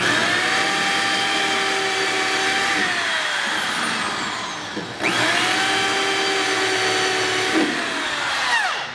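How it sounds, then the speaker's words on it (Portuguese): Electric drill fitted with a 1/4 bit drilling out spot welds on a Kia Sportage's internal structure, a loud high whine that winds down, briefly stops, then spins up again for a second bore, with no talking. "Tô usando a broca 1/4 aqui, que é o tamanho do furo"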